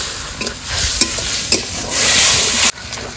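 Masala with green chilli paste and sour yogurt for dahi bhindi fries loudly in a pan, stirred with scraping strokes over a constant sizzle that swells near the end before a sudden drop.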